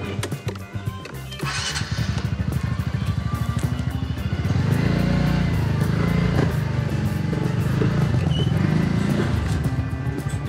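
A motorcycle runs close by, first idling and blipping, then a steady low engine drone as it rolls slowly toward its parking spot, fairly loud and continuous.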